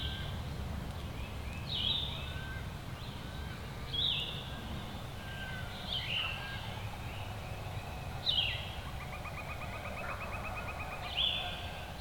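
A distant wild turkey gobbles repeatedly, about five rattling calls spaced a couple of seconds apart over a low outdoor rumble.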